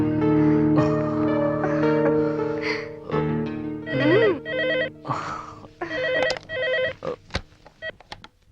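A telephone rings in a Telugu police action film scene, its electronic ringtone sounding in loud, repeated melodic bursts separated by brief gaps, with no voices.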